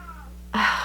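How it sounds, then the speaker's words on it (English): A house cat crying to be let into a room, one sudden loud drawn-out meow after a quiet stretch, close and plaintive. "you guys probably are going to hear my cat crying in the background"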